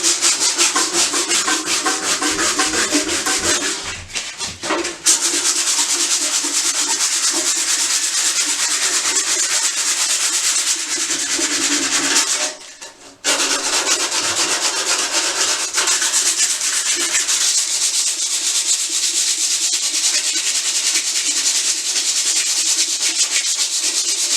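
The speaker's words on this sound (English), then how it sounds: "In the middle, you sand that way." Sandpaper worked over painted metal on a radiator, producing a loud, continuous close-up rasping scrub with steady back-and-forth strokes and two brief pauses.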